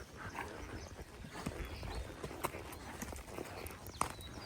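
A horse walks along a trail, hooves clip-clopping in an uneven rhythm, close but faint, with a few sharper knocks and a quiet outdoor background.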